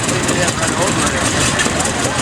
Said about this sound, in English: So there's the tractor that Paul and his family brought.